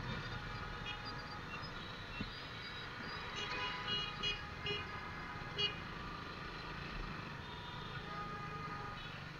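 Traffic stuck in a jam on a city road in Dhaka, Bangladesh, from a moving Hero Maestro scooter: a steady road rumble with scattered vehicle horns honking now and then at a distance, fairly faint overall.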